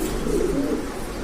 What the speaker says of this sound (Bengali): তো এমন অনেক কবুতর আছে।